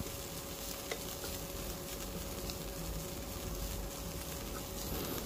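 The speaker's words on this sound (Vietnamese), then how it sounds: "Rồi, cái vậy mình đảo qua đảo lại đều ha." Lemongrass fries in a pan and is tossed back and forth, giving a continuous near sizzle with soft crackles and occasional utensil scrapes, steady and loud with no talking.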